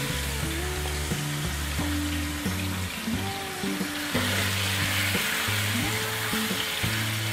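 Marinated chicken fries in hot oil for Chicken Manchurian, giving a steady close sizzle throughout with clinking and stirring sounds from the pan, and no talking.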